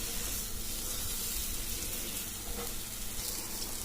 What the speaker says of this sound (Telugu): మధ్య మధ్యలో మనం ఇలా కలుపుతూనే ఉండాలి, లేదంటే అడిగంటినట్టు మనకు కనబడదు